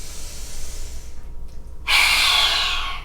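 A yoga lion's breath: a soft inhale, a brief pause, then one loud, forceful, breathy exhale with the tongue out, close and alone.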